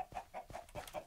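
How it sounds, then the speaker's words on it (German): Chickens clucking in the game Minecraft, a run of short repeated clucks in a loose rhythm, fairly quiet and heard alone without talk. "Ich habe hier auch Bio-Hühner übrigens"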